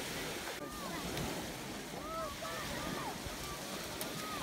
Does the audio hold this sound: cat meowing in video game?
no